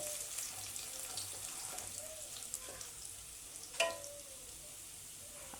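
Chopped ginger and spices fry in a pan for soya chunks, a faint soft sizzle with light stirring and one sharper knock near the end.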